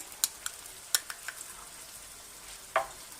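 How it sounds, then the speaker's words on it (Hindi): Soft frying sizzle as garlic and ginger paste cooks in masala for egg gravy, with a few sharp clicks and scrapes of a spoon stirring in a pan, quiet and close, with no talking. "मसाला हमारा अच्छी तरह भुनाई पे आया हुआ है। अब हम इसमें लहसुन और अदरक का पेस्ट डालेंगे।"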